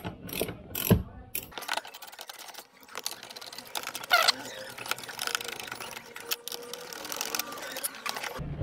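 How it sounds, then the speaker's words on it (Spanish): Screws being unscrewed from the housing of a folding electric car side mirror, giving a run of close, irregular ratcheting clicks and small mechanical rattles with brief louder knocks early on and no voices. "Entonces soltamos estos tres tornillos."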